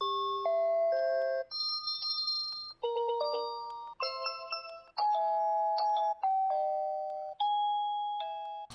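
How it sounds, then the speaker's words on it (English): A plug-in chime for the Tapo D210 video doorbell cycles through several different melodic tones, a series of clear electronic ding-dong chimes and short tunes, each ringing out cleanly with brief gaps between them. "It comes with a plug-in chime with different tones and loudness settings."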